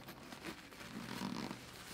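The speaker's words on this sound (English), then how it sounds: "One of the zips getting a little bit stuck there." A zipper on a camera bag dragged in short, scratchy pulls that catch and hitch partway as it sticks, quiet and close with no talk.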